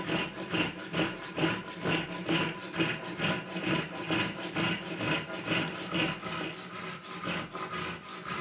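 A Rioba Japanese pull saw cuts through wood in steady, rhythmic strokes, each pull giving a rasping scrape that repeats about twice a second, close and moderately quiet, with no talking.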